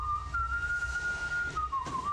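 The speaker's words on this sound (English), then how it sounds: "he started whistling the Air Force song" A person whistles the Air Force song 'Off We Go into the Wild Blue Yonder' while passing by a prison cell, a single clear, wavering whistled melody line held steadily for about two seconds over a low rumbling background.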